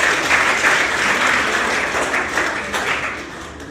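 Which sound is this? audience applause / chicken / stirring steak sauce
audience applause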